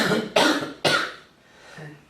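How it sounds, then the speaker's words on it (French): Two short, forceful coughs in quick succession, close by, followed by a soft breathy exhale. "Toussez un peu."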